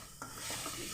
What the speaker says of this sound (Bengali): মশলাটাকে ভালোভাবে আমি ভেজে নিলাম